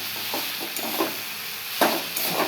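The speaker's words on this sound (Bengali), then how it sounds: "শাকটা আবার একটু নেড়ে দিলাম।" Leafy greens frying in a pan are turned with a spatula, producing a low, steady sizzle broken by several scraping and clattering strokes, one sharper stir near the end, with no voices.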